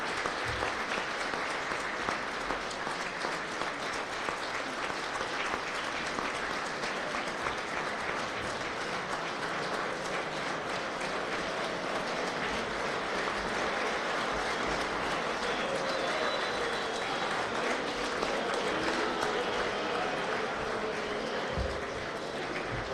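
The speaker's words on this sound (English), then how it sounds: "give me a round of applause to the coaches, trainers, and others" A banquet audience at a college basketball awards dinner applauds steadily for about twenty seconds, a dense, even roar of many hands with no voices rising above it.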